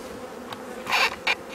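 Honey bees buzz around an open hive during a spring inspection, a close steady hum with a couple of brief louder passes as individual bees fly near.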